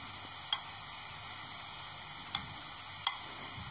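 Onions fry in oil in a pan for a paneer gravy, a steady close sizzle with a few sharp clicks and pops scattered through it, no voices.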